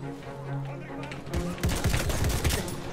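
Selbstlader 1906 rifle fire in the Battlefield 1 game rings out as a rapid cluster of sharp gunshots amid other battle noise, loud and near, with a player talking over the opening.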